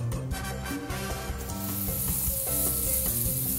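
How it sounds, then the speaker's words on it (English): Beef rolls sear in olive oil in a pan, giving a steady, close sizzle with faint stirring scrapes that holds level throughout. "you're gonna put olive oil in a pan and you're gonna sear these"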